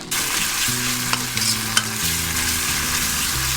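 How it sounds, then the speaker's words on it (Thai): Shrimp paste and garlic stir-fried in a pan over medium heat give a steady, close sizzle with scraping and stirring, and a few sharp clinks from the utensil against the pan. "ผัดกะปิของเรานะครับ ให้สุกหอมเลยนะครับตอนนี้ใช้ไฟกลางนะ"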